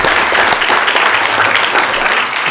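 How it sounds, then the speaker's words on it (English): A Sacramento City Council meeting audience applauds an intern from District 6, a short burst of dense, steady clapping from the room. "So if I could ask for a big round of applause for his commitment to District 6."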